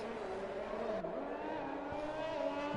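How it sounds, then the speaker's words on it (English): A Formula 1 race car in the F1 2021 video game at the Mexico circuit, its engine droning steadily and close as the throttle and brakes are feathered, with small pitch dips and no talk. "The Unknown Elder feathering the throttle and the brakes."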